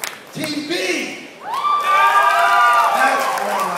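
A crowd at a startup competition event screams, cheers and whoops loudly, rising after a brief lull into sustained mixed shouting from many voices, including high children-like shrieks.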